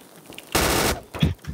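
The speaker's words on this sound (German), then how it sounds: "Da ist jemand, der schießt auf mich." A short, loud burst of automatic gunfire in the video game Trouble in Terrorist Town rips out for about half a second, followed by a brief fainter shot or impact, with no voices.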